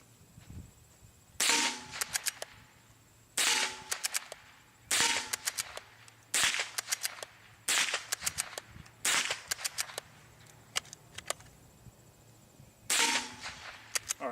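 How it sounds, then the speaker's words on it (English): Federal bolt pack .22 plinking rounds fired from a rifle, a series of about eight sharp cracks spaced a second or two apart, each with a short ringing tail, loud and close with no talk. "now I've switched to the Federal bolt pack. This is a good plinking round."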